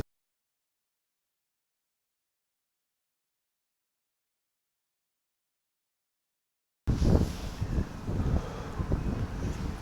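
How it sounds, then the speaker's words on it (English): Strong wind buffets the microphone in loud, rumbling gusts after several seconds of silence, continuing steadily to the end. "it's extremely windy"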